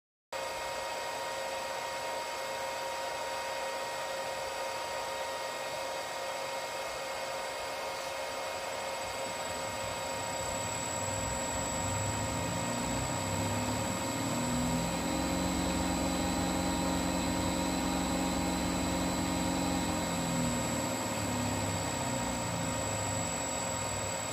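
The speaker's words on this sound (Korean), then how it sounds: "모터가 정방향으로 정격 속도 가까이 회전한 후 종료됩니다." Motor driven by a PowerFlex 755 drive during rotational tuning, a steady electrical whine with tonal hum throughout, then a deeper rising whir as it spins up near rated speed, holds, and winds down, close and continuous.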